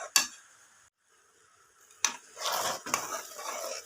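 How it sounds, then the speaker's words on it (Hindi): Spoon scraping and stirring thick starch halwa in a kadai after ghee is added, sharp metallic strikes followed by bursts of scraping and faint sizzle, close, with no voices. "अब मैं और घी डालूंगी। और चम्मच को चलाऊंगी।"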